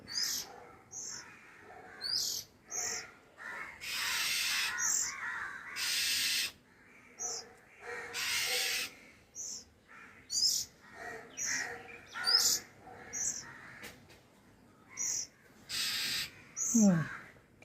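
Crows caw over and over in harsh, loud bursts, with brief pauses and a few softer chirps between.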